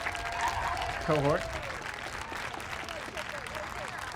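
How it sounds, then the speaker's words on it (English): A crowd at a school moving-on ceremony applauds in a sustained, fairly loud wash of clapping, with a voice speaking over it. "Another round of applause for our B4"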